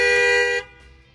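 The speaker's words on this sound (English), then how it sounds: "I'm gonna show you that the alarm will go off." A 2020 Honda Accord's alarm sounds as a single loud, close horn blast lasting about half a second before cutting off abruptly, with no talking.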